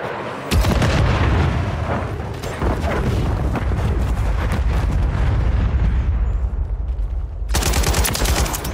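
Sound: stun grenade explosion in video game Call of Duty MW3

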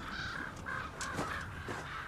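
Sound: crows cawing in Game of Thrones episode

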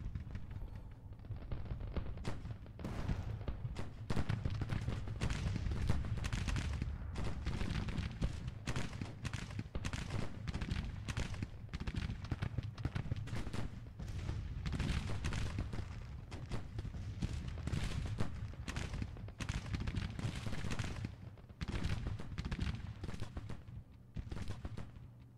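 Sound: Williams guns (cannons) firing in Grand Tactician: The Civil War video game

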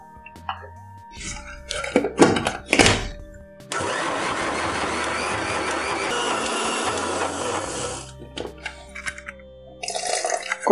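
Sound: grinder grinding idli dosa batter

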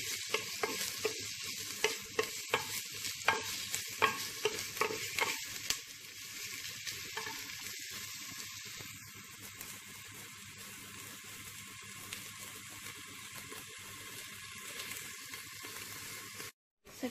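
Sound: onions frying in a clay pot, stirred with a spoon

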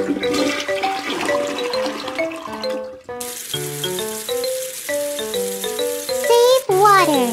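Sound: toilet flush in a video game

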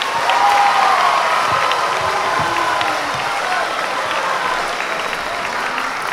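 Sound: audience applause and cheering

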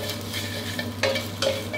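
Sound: stir-frying crispy pork in a pan

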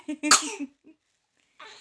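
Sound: cough

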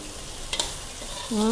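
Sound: stir-frying sweet leaf vegetable with egg, glass noodles and dried shrimp

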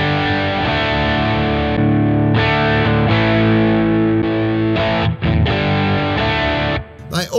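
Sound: overdrive guitar pedal

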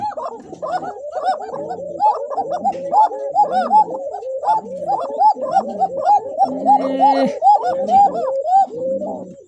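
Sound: pigeons cooing

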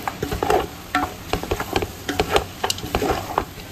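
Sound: stirring poha with tomatoes in a pan on the stove

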